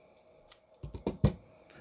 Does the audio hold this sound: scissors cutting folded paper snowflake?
yes